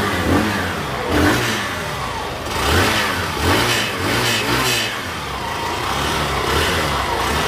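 A Hero Glamour X-tec 125 motorcycle engine fires up and revs in several rising, falling surges, loud and close, settling into a steady idle.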